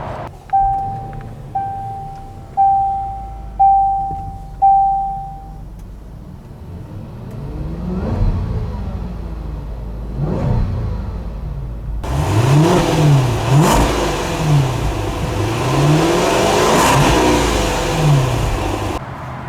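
A 2021 Range Rover Westminster Edition SUV fires up after a few chime tones, then revs in several rising and falling swells, ending in a louder, sustained rev near the listener.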